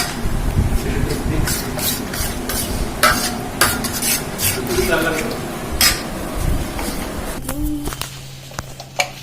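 Hung curd and mustard oil for a paneer tikka marinade get mixed by hand in a bowl, with repeated wet squelches and light clinks against the bowl under a low kitchen hum, ending in quieter scraping.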